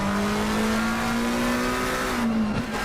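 Race car in a sim racing game at Suzuka, brakes dragged to build temperature, gives a steady high squeal over a loud continuous engine drone, sliding downward near the end.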